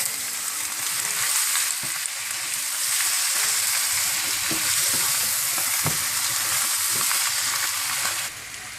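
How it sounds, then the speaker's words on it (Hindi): Dhaba-style mutton with spinach and fenugreek sizzles loudly in a pan while being stirred and sautéed, a steady, dense frying hiss with occasional scraping strokes and no talking. "इसको अच्छी तरह से आप मिक्स कर लें और भून लें"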